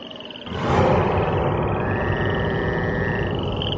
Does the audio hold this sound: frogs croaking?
yes